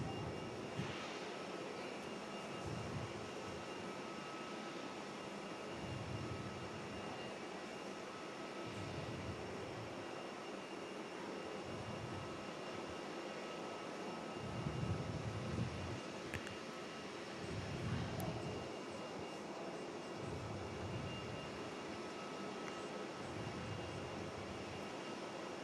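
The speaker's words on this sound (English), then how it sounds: "So the Transnosa about to arrive here at Perth, dangling the Dunlops in just a moment." A TransNusa airliner arrives at Perth airport, its engines a faint, distant hum and whine that swells gently in a few places against quiet background air.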